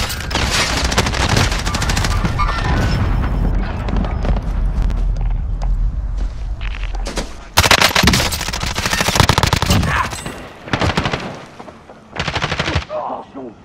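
Loud, continuous automatic gunfire and heavy shooting in the video game Call of Duty: Modern Warfare, dense bursts over a battle din, with brief breaks and voices in the mix.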